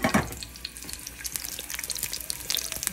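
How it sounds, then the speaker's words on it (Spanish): Lentils boil in a pot on the stove, a steady close bubbling and crackling with light splashy watery detail and no talking. "Las lentejas ya están hirviendo"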